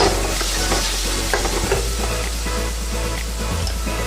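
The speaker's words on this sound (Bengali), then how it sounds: "এবার আমি এর মধ্যে বেটে রাখা মশলাটা দিয়ে দিচ্ছি দিয়ে এবার আমি এটাকে ভালো করে কষিয়ে নেব" Ground spice paste frying with onion, ginger and garlic in a pan, a loud continuous sizzle with a low steady hum beneath and intermittent scraping from stirring, close up and without speech.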